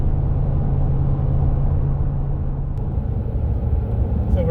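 Steady low engine and road rumble from a vehicle towing a fifty-year-old boat on a freeway near Reno, even and continuous throughout.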